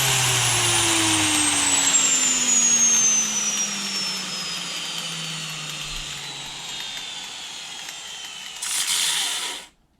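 A failing old bench grinder winds down in a long falling whine, sputtering and losing speed over several seconds before a brief final burst of noise cuts off into silence.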